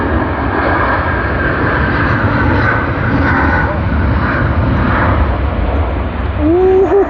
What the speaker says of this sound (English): LA810 Latam Airlines has begun its takeoff roll from runway 34 left